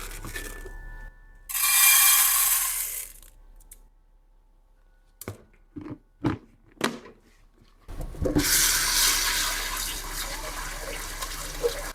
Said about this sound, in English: I love being able to pump my own water.